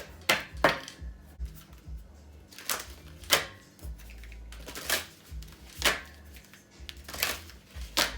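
A deck of playing cards is shuffled in several quick riffling bursts spaced a second or two apart, close and crisp against a quiet room.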